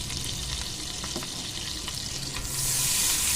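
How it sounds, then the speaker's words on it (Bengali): Marinated chicken frying in hot butter and oil in a wok for butter masala sizzles loudly and continuously up close, and the hiss swells brighter toward the end. No one speaks. "এবার আমি ম্যারিনেট করা চিকেনগুলো ওর মধ্যে দিয়ে দেবো।"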